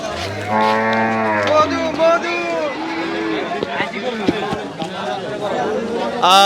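Cattle low loudly and repeatedly at a crowded livestock market before Eid, with long moos close by over the chatter of the crowd and people talking.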